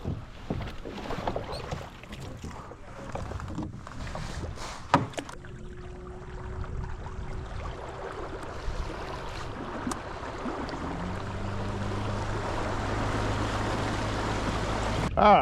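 A large fishing kayak slides off a trailer into the water at a launch, with splashing and water movement under steady wind noise and a vehicle engine humming in the background.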